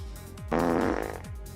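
A single cartoonish fart sound effect from Path of Exile gameplay: one loud, buzzy, rumbling blast of about three-quarters of a second that rises abruptly and trails off, with no talking.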